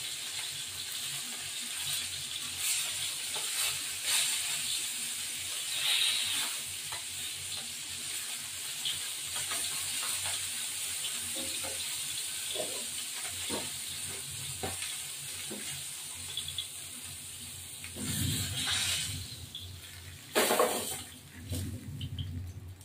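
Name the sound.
hilsa fish frying in hot oil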